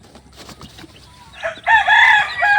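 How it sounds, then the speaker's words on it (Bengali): Hill chickens cluck softly nearby, then a rooster lets out one loud, drawn-out crow that fills the second half. "আমি আপনাদেরকে পাহাড়ি মুরগিগুলো একটু দেখাই এই দেখেন"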